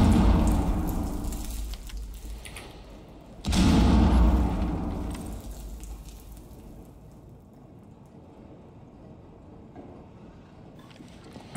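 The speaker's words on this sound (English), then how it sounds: "Frag out." A frag grenade goes off in Rainbow Six Siege as one loud, close boom that fades into a long rumbling tail, with no talk over it.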